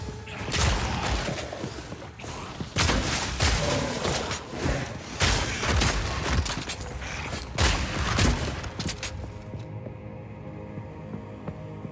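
Grenades and combat in the video game Path of Exile 2 give repeated loud, booming thumps and crackling blasts over dense battle noise, fading to a quieter hum near the end.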